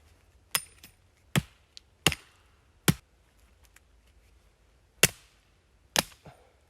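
Wet firewood is split open at a freezing campsite: six sharp, separate chopping cracks ring out at uneven intervals against a quiet background.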